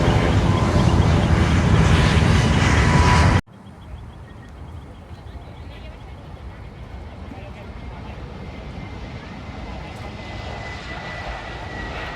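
An Aerojet airliner departs, giving a loud, broad jet roar that cuts off abruptly after about three seconds, followed by a quieter, steady distant engine rumble with faint background noise.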